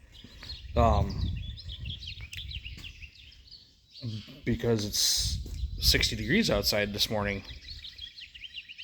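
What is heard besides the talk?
birds chirping outside in the morning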